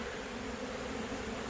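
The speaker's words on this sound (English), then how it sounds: "the reason why all these bees are here" Many honey bees swarming around a hive during a fall honey harvest, a dense continuous buzz close up with no voices over it.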